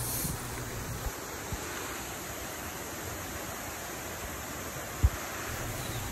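Twin Falls in Dimiao, Bohol, sounds as a steady, broad rush of falling water, fairly distant and even throughout, with a couple of faint knocks.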